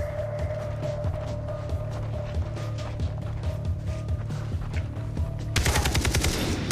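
Sustained automatic gunfire in the video game Far Cry 3 rattles steadily throughout, loud and dense, with a louder, harsher burst of shots near the end.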